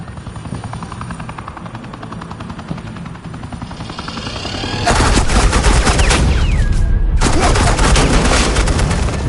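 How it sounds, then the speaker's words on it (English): Suppressing gunfire in the video game Batman: The Enemy Within: loud, sustained rapid automatic bursts erupting midway over a droning helicopter-like rumble, with a brief gap before the firing resumes. "suppressing fire."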